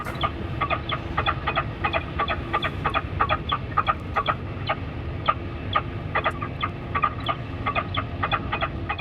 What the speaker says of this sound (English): They're all distress calls that have been recorded to disperse the birds.